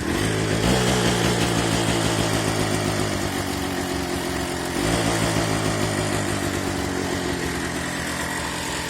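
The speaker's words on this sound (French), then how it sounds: "C'est vraiment une moto qui tourne." A KMX 125 motorcycle engine runs steadily nearby with a loud, rough, throbbing idle that holds constant throughout, with a slight shift in pitch partway through.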